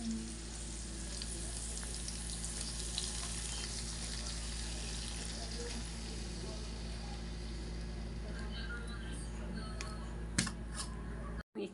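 Onion, tomato and beaten egg sauté in a hot pan, giving a steady, close sizzle and frying crackle throughout with faint stirring and background kitchen noise.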